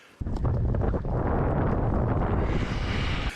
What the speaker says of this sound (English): that wind's really picking up already